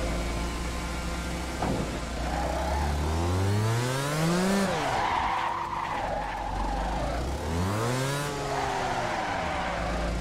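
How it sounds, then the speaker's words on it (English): Shifter kart engines revving in a racing game at Mario's Royal Raceway, loud buzzy engines rising and falling in pitch with repeated revs and skidding, continuous and near. "They're just revving their engines."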